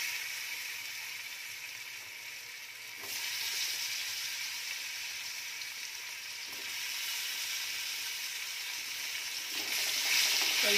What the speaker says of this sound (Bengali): আলুগুলোকে এভাবে নাড়িয়ে সরিয়ে একটু ফ্রাই করে নিচ্ছি।